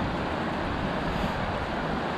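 A river in Minakami, Gunma, full of large stones, rushes over rocks in a constant broadband wash of water, moderately quiet and unbroken, with no speech.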